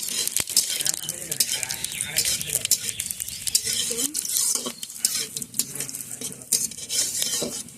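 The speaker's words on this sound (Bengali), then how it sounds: "ফোড়নে আমি দিয়ে দিচ্ছি কিছু শুকনো লঙ্কা আর এই তেজপাতা, গোটা গরম মশলা আর জিরে" Dried red chillies, bay leaf, whole garam masala and cumin crackle and sizzle in hot oil in a pan for Bengali chicken kosha, with steady frying hiss, utensil clinks and stirring scrapes throughout.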